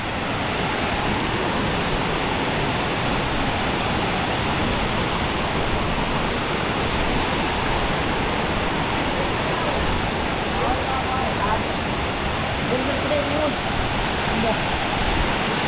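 A rising river current flows at a fishing spot in a constant, dense rush, loud and close throughout, with no break or change in level.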